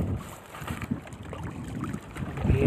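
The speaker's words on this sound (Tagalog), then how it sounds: "At biglang lumakas ang hangin" Strong wind buffets a small handline fishing boat at sea, a steady rough rush with gusty swells and water noise, close to the microphone and with no talk.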